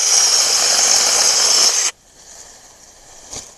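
A small Troozy 6-inch electric chainsaw whines loudly and steadily for about two seconds while cutting, then stops abruptly, leaving quiet background with a faint knock near the end.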